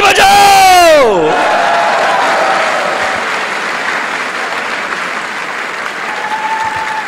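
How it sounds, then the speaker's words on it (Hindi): A crowd breaks into loud applause and cheering with shouts and whoops, a sustained roar that follows a sliding vocal note and slowly eases while staying dense. "गिरीश एंड प्रीति साम्याल, ताली बजाओ।"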